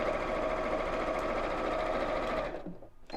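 A sewing machine runs continuously while stitching patchwork pieces together, a steady close mechanical whir that cuts off near the end.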